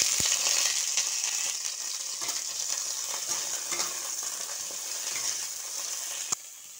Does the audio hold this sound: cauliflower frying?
yes